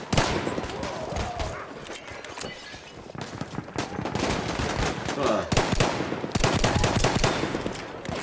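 Rapid gunfire from a shooter video game, dense bursts of sharp close shots in quick succession, some heavier volleys, with occasional talk underneath.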